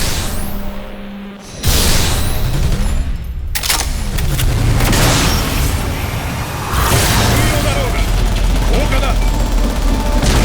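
Heavy police gunfire in an anime fight scene, a dense, loud barrage of shots and booms layered with explosive impacts and a roaring action soundtrack, continuous throughout with a brief dip early on.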